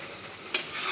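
Masala fries in oil in a kadai, giving a soft continuous sizzle, with a short scraping stir of the spoon midway before the hiss swells slightly.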